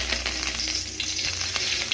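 Curry leaves crackle and sizzle in hot oil in a wide pan while cooking Andhra fish curry, a close, steady frying hiss with small popping bursts and no talking.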